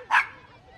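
A single short dog bark or yip, played as a sound clue in a hot dog guessing game, sounding once near the start and then fading into a quiet background.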